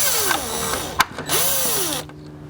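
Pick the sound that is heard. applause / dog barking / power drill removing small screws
power drill removing small screws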